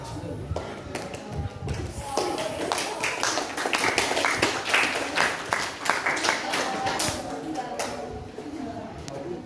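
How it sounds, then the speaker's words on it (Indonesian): Classroom applause after a student group's presentation, a dense run of many hands clapping that swells through the middle and continues steadily to the end, close and fairly loud. "Aplaus."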